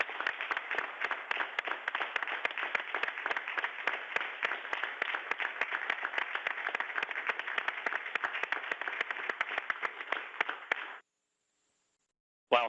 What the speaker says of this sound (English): You certainly deserve a round of applause, and I'd like you to stand up and take one right now if you could.